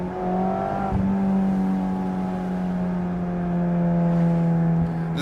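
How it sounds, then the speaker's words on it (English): A Mazda Miata ND3 fitted with a Goodwin race exhaust accelerates hard, heard from inside the car as a loud, sustained engine note that climbs slightly, with a brief shift-like dip near the start. "This Goodwin race exhaust,"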